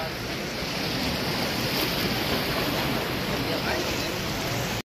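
Sea waves at Haji Ali Dargah in Mumbai wash in a steady, loud roar of surf with wind buffeting the microphone, continuous throughout before cutting off abruptly.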